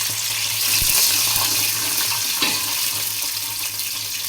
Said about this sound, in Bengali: তারপর আমি 1 কাপ পানি দিয়ে দিলাম।